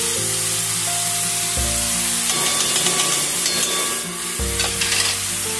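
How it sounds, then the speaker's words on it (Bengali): Dry ground spices (cumin, coriander and chili powder with potato-curry masala) sautéed into a masala for a pointed gourd and egg dish produce a loud, constant close-up sizzle with repeated stirring scrapes over a tonal background, and no speech. "এবার এই মশলাগুলো দিয়ে আমি বেশ অনেকক্ষণ ভালো করে কষাবো।"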